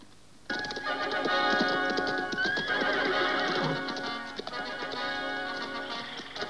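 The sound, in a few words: horse neighing and hooves clip-clopping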